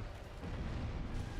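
Boss explosions in the video game Dark Souls, a dense, rumbling low boom that swells and holds for about a second and a half, fairly soft overall.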